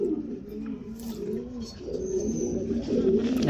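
Pigeons coo softly and repeatedly while bathing, with low, throaty calls over a busy background of splashing and rustling, and someone talks briefly nearby.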